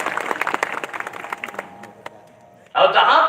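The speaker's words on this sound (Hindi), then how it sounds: "आपसे निवेदन है ताली बजा दिया जाए" An audience at a family gathering breaks into dense clapping near the end, after a stretch of amplified talk with sparse scattered claps underneath.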